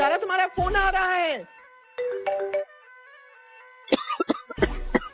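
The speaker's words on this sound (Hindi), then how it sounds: "हाँ हाँ, खांसो खांसो, खांसी तो आएगी ना।" In a comedic drama scene, a short cough bursts out near the end among a ringing phone tone and people talking.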